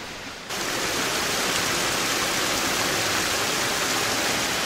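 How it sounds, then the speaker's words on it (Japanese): Tengu Falls in the Oku-Musashi mountains, a mountain waterfall whose steady, broadband rushing roar swells in after a brief quieter moment and then holds loud and constant with no voices. "あちらに見えるのが天狗滝です。"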